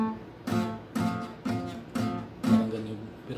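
Guitar chords strummed with poorly placed fingers, giving a muffled, buzzy tone: six evenly spaced strums, each decaying quickly, close and clear with no voices.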